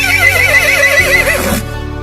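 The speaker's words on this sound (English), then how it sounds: "Horse says" A horse gives one loud, close whinny lasting about a second and a half, its voice quavering and falling before a short snort-like tail, with no talk over it.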